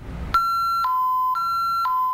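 A home burglar alarm sounds alone at steady loudness, a two-tone electronic tone alternating high and low about every half second after a brief low rumble at the start.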